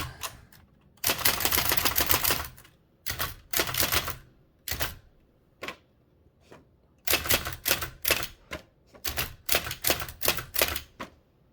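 Typing on a Hammond Multiplex typewriter comes as bursts of rapid, sharp mechanical keystrokes separated by short pauses, loud and close, with no voices.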